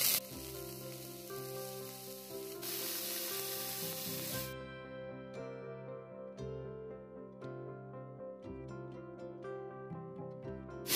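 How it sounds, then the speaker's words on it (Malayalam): Netholi fish sizzle steadily on an oiled tawa, a continuous close crackle of frying that holds level throughout, alone without voices. "തവ ഫ്രൈ ആണ്, നമുക്ക് മീൻ ഇട്ട് കൊടുക്കാം."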